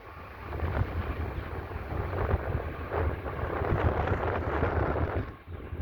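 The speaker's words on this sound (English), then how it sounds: "The wind's starting to pick up." Gusting wind before a storm buffets the microphone with a continuous low rumble and rushing noise. It holds steady throughout and dips briefly near the end, with no voices.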